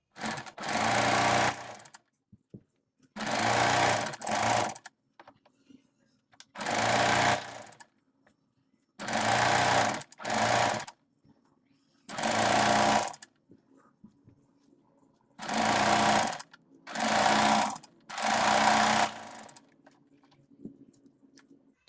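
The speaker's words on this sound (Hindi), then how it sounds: "अब इसमें सिलाई लगा लेते हैं।" An electric sewing machine stitching a boat neck onto a kurti, running in about ten short bursts of rapid whirring stitches separated by quiet pauses, close and clear.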